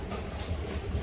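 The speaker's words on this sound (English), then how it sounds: "Now I'm gonna take the train" An NJ Transit commuter train rolls along the tracks in New Jersey, a steady, close rumble with rhythmic wheel clatter over the rails and no voices.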